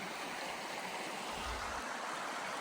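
Mountain river rushing past a backpacking river crossing on a trail below a pass, a steady broadband wash of flowing water heard alone, with a brief low rumble partway through.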